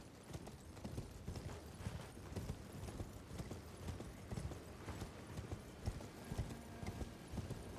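Clip-clopping hooves of the merchant's horse in Elden Ring, a steady, close rhythm of hoofbeats with an occasional faint whinny and no talking.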